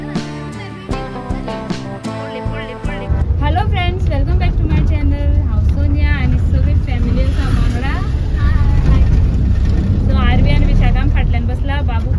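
A family car on a holiday road trip to Tambdi Surla hums with a steady, loud low engine and road rumble inside the cabin, starting a few seconds in, while people talk over it.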